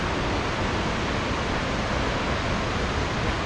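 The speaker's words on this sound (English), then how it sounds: "I'm here alone with this epic waterfall" A large waterfall on Mount Hood, Oregon, roars as a steady, dense rush of falling water, close and loud, with no voices.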